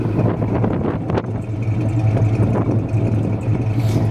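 A 1980 Chevrolet C30 dually, a former fire department truck, idles nearby with a steady low rumble and an even, smooth engine hum throughout.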